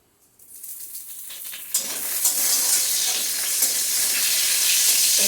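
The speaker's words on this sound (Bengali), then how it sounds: "তেজপাতাগুলো একটু ভাজা হয়ে নেয়" Whole bay leaves fry in a small amount of mustard oil over raised gas heat. A quiet start quickly swells into a loud, continuous close-up sizzle and hiss that holds steady.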